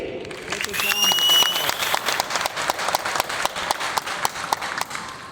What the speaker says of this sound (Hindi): माय डियर फ्रेंड्स, जोरदार तालियां आप सभी ग्रैंड लीडरशिप के लिए